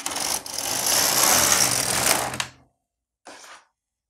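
An LK150 knitting machine carriage slides to the left in one continuous rattling, whirring pass lasting about two seconds, then stops, with a brief softer scrape shortly after.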